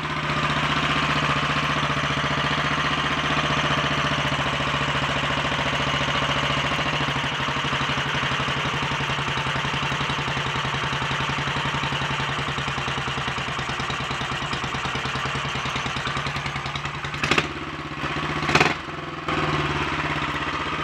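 A Royal Enfield 500 single-cylinder motorcycle engine with a freshly rebored cylinder, new piston and rings runs steadily after its first start following tuning work, a loud continuous close-up idle with a couple of brief revs near the end.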